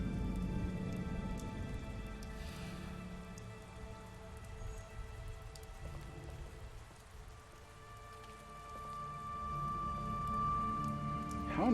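Steady rain falling in the video game The Wolf Among Us, a soft continuous patter on surfaces at moderate distance, fairly quiet throughout with no talking.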